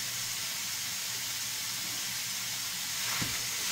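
Ground meat for a shepherd's pie cooks in a pan with a faint, steady sizzle and hiss that carries on alone throughout, with one soft clunk near the end.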